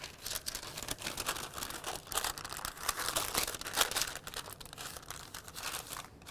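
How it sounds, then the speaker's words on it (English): Parchment paper being crumpled and shaped around cookie dough for pecan sandies, close crinkling and rustling in irregular bursts that continue throughout, with no voice. "I have my piece of parchment here and I'm just going to give it a rough shape to start"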